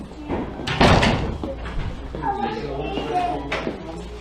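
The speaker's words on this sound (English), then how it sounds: "I hear doors closing everywhere." Doors thump and bang shut nearby, one heavy slam standing out early and softer closings following, with people talking over and between them.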